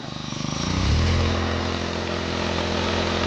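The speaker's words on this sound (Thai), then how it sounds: "เดี๋ยวฟังเสียงเครื่องยนต์ไปด้วยกัน" The small engine of a K-STY concrete screed machine starts and runs steadily at close range, its low rumbling drone settling into an even idle after a brief rise in the first second.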